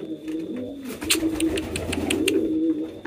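Pigeons coo on a pigeon farm, with a steady, close, low rolling coo that continues throughout and small flutters and rustles over it.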